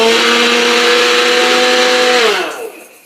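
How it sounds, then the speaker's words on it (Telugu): A kitchen mixer grinder powders sugar, its high motor whine holding steady and loud for a couple of seconds before winding down and fading out, with no talk. "షుగర్ పౌడర్ చేయడానికి మిక్సీ అయితే పెట్టాను"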